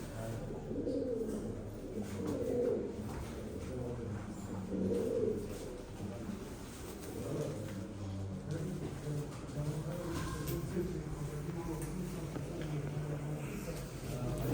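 Pigeons at a bird auction coo softly and steadily, a low repeated murmur over a faint constant background hum.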